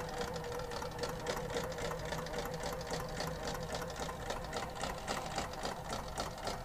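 A sewing machine bastes a long, large stitch across a quilt loaded on a small quilting frame, running steadily and close with a fast, even mechanical rhythm throughout.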